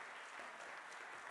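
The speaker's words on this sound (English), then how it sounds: "let's give them a round of applause." An audience gives a short round of applause as the FORS quality assurance team is welcomed to the stage at a presentation. The clapping is steady and fairly soft, heard from a distance.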